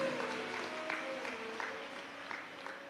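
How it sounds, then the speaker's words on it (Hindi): An audience at a live Shiv Mahapuran katha gives a big welcoming round of applause, a dense sustained wash of clapping heard from a distance that tapers slightly near the end. "एक बार जोरदार ताली बजाकर उनका स्वागत करिए।"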